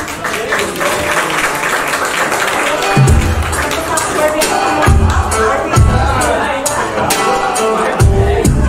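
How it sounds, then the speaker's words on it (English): An audience at a showgirl stage act applauds a performer, a steady crowd clapping blended with cheers as pulsing music with a thumping beat starts underneath. "Jazmine, a round of applause, please."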